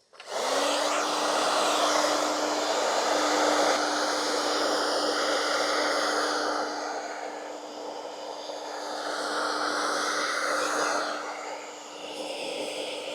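A hot air blower runs steadily, warming the bodywork of a VW Scirocco R before a spoiler is fitted with 3M tape; a loud, continuous whooshing hum with a faint tonal whine, easing slightly midway.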